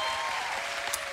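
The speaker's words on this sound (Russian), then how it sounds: "Аплодисменты для начала этому поводу." Audience applause at a televised diva music show, a soft, steady patter of clapping from a crowd, fairly distant and even throughout.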